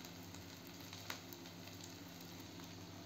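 Onions frying in a pan until golden brown, giving a faint, steady sizzle with no clear breaks.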